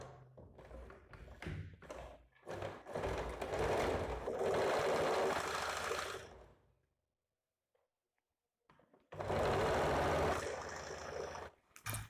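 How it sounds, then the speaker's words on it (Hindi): Sewing machine stitching a straight seam on the outside edge of a coat-style blouse collar, two long steady runs of motor whir separated by a silent pause, with short taps and thumps of handling at the start. "इसको यहाँ से बाहर की तरफ से ऐसे सीधा सिलाई कर लेना है।"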